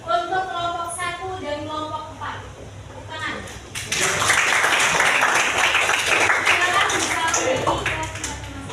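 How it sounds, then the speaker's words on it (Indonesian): Students in a high school Indonesian-language classroom break into applause for student groups, the clapping starting suddenly after a few seconds of a teacher talking and continuing close and lively to the end. "Tepuk tangan."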